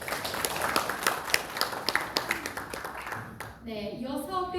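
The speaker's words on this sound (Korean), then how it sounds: "격려의 박수 부탁드립니다." An audience of reporters claps for a city team leader at a mayor's press briefing, a brisk patter of overlapping claps that fades out before a voice begins speaking.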